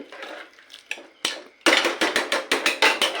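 A spoon stirs chickpea curry in a cooking pot, giving a run of bright, regular metallic clinks and scrapes, close and fairly loud, after some softer clatter at the start.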